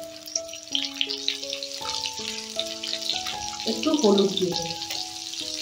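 Potatoes frying in oil in a pan with a little salt and turmeric, a soft continuous sizzle under a person talking, with occasional stirring scrapes.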